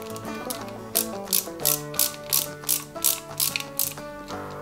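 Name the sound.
screwing a small screw into a model car kit part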